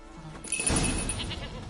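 A goat in The Witcher 3 video game gives a single short, fairly close bleat, a brief wavering cry rising over quiet game ambience.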